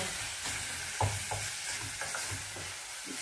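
Minced meat for a bolognese sauce fries in a pan with a soft steady sizzle, broken by several light scraping stirs and one thump near the middle.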